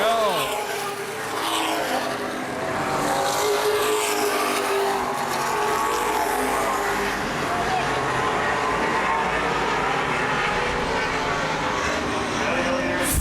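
Late model race cars lapping Baer Field Speedway, a continuous loud engine drone that rises and falls beneath a race commentator's voice.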